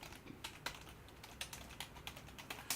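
Fingers type on a computer keyboard with quick, uneven clicks, fairly faint and near, over a soft background hum.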